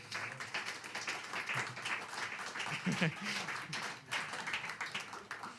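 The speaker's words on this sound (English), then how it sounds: "Please give a round of applause for Luther." An audience at a jazz concert claps for Luther, a moderate spread of hands at some distance, with talking mixed in and a brief lull before the clapping resumes.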